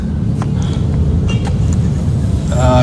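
Road traffic rumbles steadily from inside a car in Quezon Province, a dense low engine and road drone with faint voices and brief higher tones near the end.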